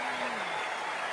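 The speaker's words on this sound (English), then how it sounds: "Extends his arms and applauds just as wildly as this audience are." A BBC Proms concert audience claps enthusiastically for cellist Yo-Yo Ma after a Bach cello suites performance, a dense, sustained wash of applause filling the hall while a commentator speaks over it.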